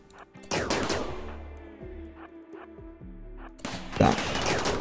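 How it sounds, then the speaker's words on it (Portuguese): Gunfire exchange in the video game RimWorld: bursts of shots crackle at the start, then a lull with scattered pops, then a heavy renewed volley near the end, all fairly loud with no talk over it. "trocando tiro já"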